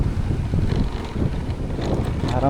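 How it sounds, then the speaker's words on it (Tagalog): Strong wind buffets a microphone while riding on a motorcycle along a rural road, giving a continuous loud rumbling roar with gusty low-end thumps and no speech. "Malakas ang hangin."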